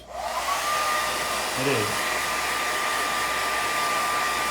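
A hair dryer blows on craft paint, a loud steady whooshing drone running nearly the whole time after switching on, with a brief spoken remark partway through.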